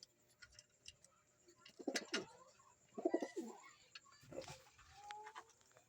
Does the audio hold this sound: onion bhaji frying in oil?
no